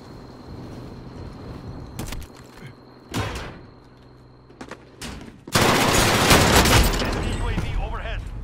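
Bursts of gunfire in Call of Duty Warzone during a night Plunder match, with sharp shots around two to five seconds and a loud sustained barrage from about 5.5 seconds, mixed with players talking.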